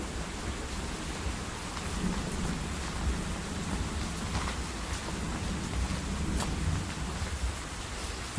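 Steady rain patters over a low, rumbling background, with no voices and no distinct thunderclaps standing out.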